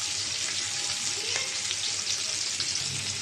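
Nola fish, a haor river fish, sizzling as it fries in oil in a pan, a steady close crackle and hiss with a brief clink of a utensil midway, no talking.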